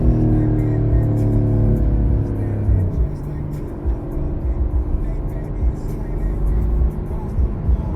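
A Porsche 911 Carrera 4 GTS T-Hybrid drives past farmland, its engine droning loud from inside the cabin, dropping in pitch after shifting or easing off around the middle, with steady road rumble beneath.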